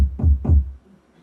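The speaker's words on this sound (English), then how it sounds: "let me get a kick drum up." Two deep, booming kick drum hits in quick succession, each with a punchy low thump that decays briefly, then silence.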